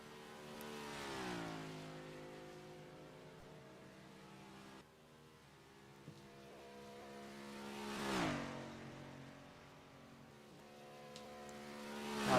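A stock car on a qualifying lap at an oval track, its engine note rising and falling as it passes, loud near the start and again around the eighth second, then fading into the distance, with no talk.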